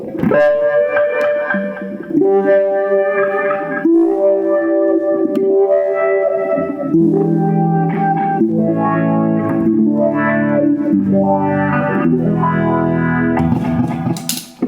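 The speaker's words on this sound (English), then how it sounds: "I'll use a phaser as well, set to medium speed. And I'll add some delay." Distorted electric guitar through a Mesa/Boogie F50 amplifier plays chords and short riffs, swirling with a medium-speed phaser effect and trailed by echoing delay repeats.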